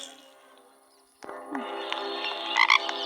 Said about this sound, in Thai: วันนี้กบออกมา